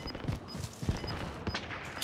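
Gunfire in the Call of Duty Warzone video game: a distant, faint series of irregular shots and bursts crackles over several seconds.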